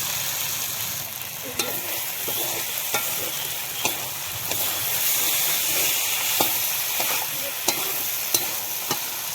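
Potatoes fry in oil with cooked-down spice paste in a pan, a steady loud sizzle broken by repeated sharp scrapes and clinks of a spoon as they are stirred.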